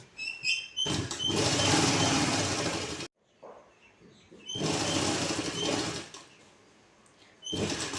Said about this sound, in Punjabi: ਮਸ਼ੀਨ ਦੇ ਅੰਦਰਲੇ ਪਾਸੇ ਆਪਾਂ ਕੱਪੜਾ ਰੱਖਾਂਗੇ ਤੇ ਇਸ ਤੇ ਆਪਾਂ ਹੁਣ ਸਲਾਈ ਲਗਾਉਣੀ ਸ਼ੁਰੂ ਕਰਾਂਗੇ